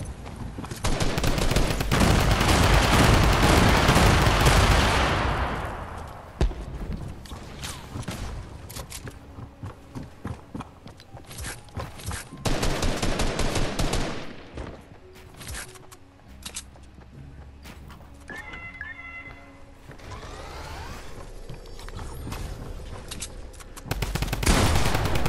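A drum gun fires in a battle royale video game, long bursts of rapid automatic gunfire, loud and close, broken by pauses and scattered single shots, with a final burst near the end.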